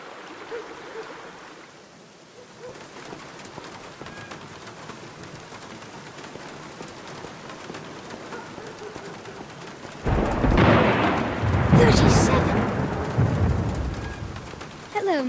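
Steady rain falls throughout, then a loud crack and long rumbling roll of thunder bursts in near the end, swelling heavily before fading back under the downpour.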